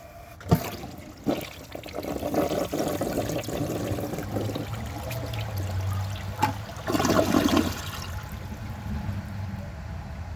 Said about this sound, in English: This toilet has decent suction power, so I think it has a chance.